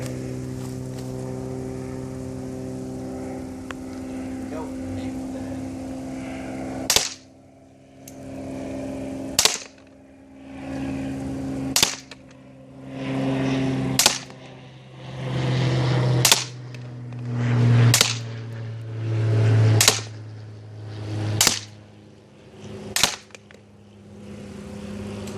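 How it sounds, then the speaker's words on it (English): A CZ 75 P-07 pistol fires about nine sharp, loud shots at a target outdoors, spaced a couple of seconds apart, each crack followed by a brief ringing decay over a low background hum. "So he's gonna aim for the head and start shooting."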